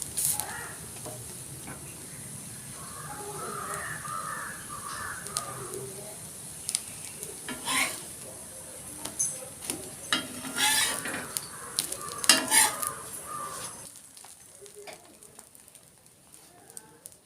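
Bread toasting in oil on a tawa, a soft sizzle with intermittent scraping and clatter that grows busier toward the end, while pigeons coo faintly in the background.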